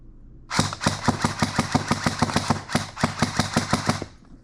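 An SSE18 Gen 2 airsoft gun fires rapidly on semi-auto at an airsoft range, with about twenty close, sharp mechanical shots in a fast even rhythm, a brief pause partway through, then more shots.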